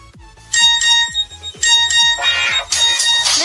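A custom Hindi name ringtone plays from a phone as a loud, repeating melody of bright bell-like chimes over a steady low beat, with a voice-like sung phrase near the end.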